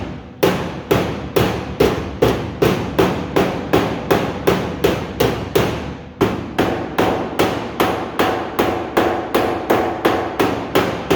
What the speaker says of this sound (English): Let me grab my hammer.